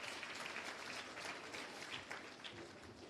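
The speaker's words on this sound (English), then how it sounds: "A hand of applause for them again." Audience applause at the launch of a skills development centre, a faint, distant patter of many hands clapping steadily throughout.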